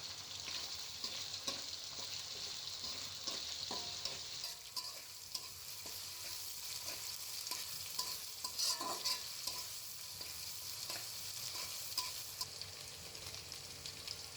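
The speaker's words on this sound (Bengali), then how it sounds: "এ দুটো ভেজে নেওয়ার পর এর মধ্যে পেঁয়াজ কুচি দিয়ে দিলাম" Chopped onions sizzle steadily in hot oil for a vegetable khichuri, with a spatula scraping and stirring the pan in repeated close strokes and no voice over the frying.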